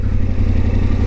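A Yamaha Ténéré 700 motorcycle engine idles close by on soft, boggy ground, a steady low throbbing rumble with no talk.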